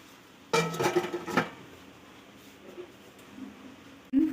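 A lid set onto a cooking pot of chicken simmering on low gas in a home kitchen, a short metallic clatter near the start, then quiet with faint kitchen noise and a small knock at the end.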